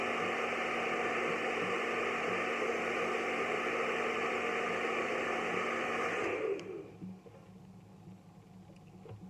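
A handheld hair dryer blows steadily on its cold setting, a loud whooshing hum with a tonal whine that cuts off abruptly after about six seconds, leaving faint room noise.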